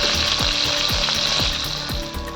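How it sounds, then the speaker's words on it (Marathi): Food frying and being stirred in a pan until browned, a steady loud sizzle broken by regular scraping stir strokes roughly every half second. "छान लाल होईपर्यंत परतून घेऊया"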